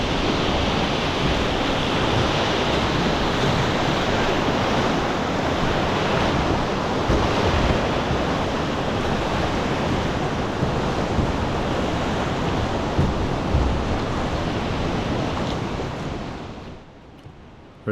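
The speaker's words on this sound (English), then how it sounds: "The river's moving really fast here, even between the rapids" Fast-moving river water between rapids during a high-water rafting trip, a loud continuous rushing roar that holds steady throughout and drops away abruptly at the end; no talking.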